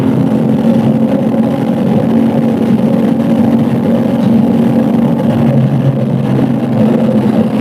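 A CFMOTO 450SR motorcycle engine revs hard above 7,000 RPM, a loud, continuous high-pitched drone with rising and falling pitch, heard close up without any talking.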